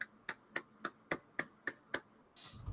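Eight crisp finger snaps come at a steady, evenly spaced rhythm, close and fairly quiet, given as applause, followed by a brief rustle of noise.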